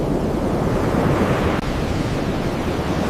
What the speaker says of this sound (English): Waves explode against the cliff base, sending plumes of spray 10 meters into the air.